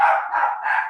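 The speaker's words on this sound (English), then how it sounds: "my dog is barking" A dog barks several times in quick succession, close by and fairly loud, with short repeated yips filling the moment without any talking over them.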